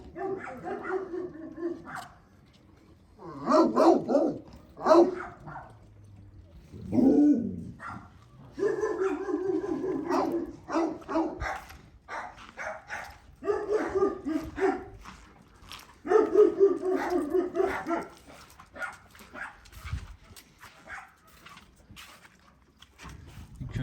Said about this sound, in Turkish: köpek sesi var